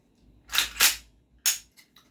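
A rebuilt GHK AKMN airsoft rifle with short-stroke two-stage recoil fires BBs in several sharp, close reports: two quick shots, then a pause, then two more.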